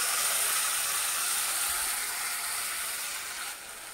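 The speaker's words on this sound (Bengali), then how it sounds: "মাছটা দিয়ে দিলাম, ভালো করে ভেজে নিচ্ছি।" Katla fish head frying with spices in a pan, a steady, fairly loud hiss of sizzling oil that holds even throughout and eases slightly near the end, with no talk.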